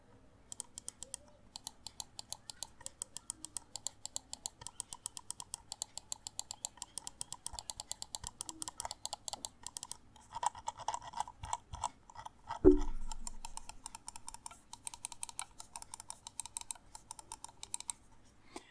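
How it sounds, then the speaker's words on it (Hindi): Button clicks from a Cosmic Byte Hyperion wireless gaming mouse, a long run of crisp, close, rapid clicks in steady rhythm, with one louder thump partway through. "मैं अगर इसके क्लिक की बात करूँ तो गाइज़ यहाँ पे आपको एक बार मैं क्लिकिंग साउंड सुना देता हूँ इसका"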